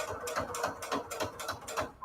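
A sewing machine stitches fabric patchwork at a slow pace, giving a close, even mechanical clatter of about four evenly spaced ticks per second.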